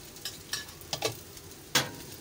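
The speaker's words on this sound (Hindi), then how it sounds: "साइडों में घी डाल दें।" An egg-topped paratha frying on a griddle after ghee is added around its edges, making a steady soft sizzle broken by a few sharper spatula scrapes, close and free of speech.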